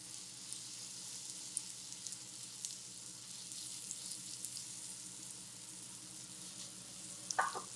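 Tuna melt mixture sizzling in a waffle maker, a steady soft crackling fry with scattered tiny pops and a brief louder tap near the end, no voices.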